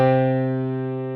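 A root and perfect fifth are struck together as one sustained, stable dyad that rings out clearly and fades gently over about a second, with no voices.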